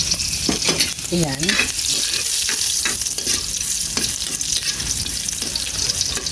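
Garlic sizzles and fries in a pan while a utensil stirs and scrapes through it, a steady crackle throughout. A voice speaks briefly over the cooking.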